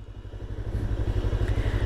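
A Chinese motorcycle idles close by at a mountain lookout on the way to Choquequirao, its engine putting out a steady, low, rhythmic chugging throughout with no talking.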